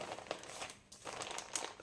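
Crinkling and crumpling as a thick stack of paper signatures for a junk journal, about eleven folded double sheets, is squeezed together; two close bursts of dry rustle separated by a brief pause, with no talking.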